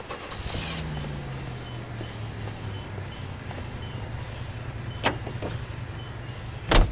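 A car driven in the 1940s Los Angeles crime game L.A. Noire, a steady low engine drone running throughout with a couple of sharp knocks and a louder thump at the end.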